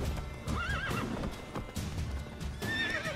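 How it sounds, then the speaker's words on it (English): Horse neighing and whinnying in The Witcher 3 video game in the village of White Orchard, two loud wavering calls over a steady clatter of hooves, fairly close and without talk. "that horse back there."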